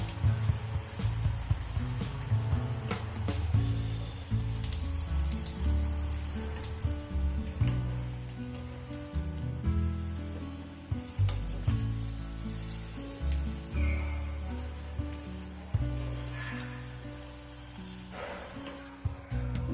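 Rice flour fritters (unniyappam) frying in oil in a pan, with a steady close sizzle and bubbling that runs throughout, along with occasional clinks as they are turned.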